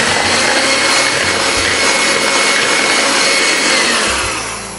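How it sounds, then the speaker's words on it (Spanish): Sugar is whisked with milk in a bowl: a loud, continuous close-up scraping and rubbing that runs without a break and tapers slightly at the end. "lo voy a batir solamente con la leche y así se queda bien líquido"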